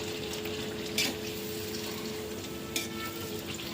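Malpua, the Bengali sweet pancake, frying in hot oil with a steady soft sizzle close by, broken by two brief clinks of a utensil, with no talk.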